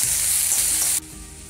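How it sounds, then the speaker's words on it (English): Onion and green chili hit warmed oil with a loud, bright sizzle that drops sharply to a softer frying hiss after a second, with no talking. "The oil's warmed. That's the onion and green chili."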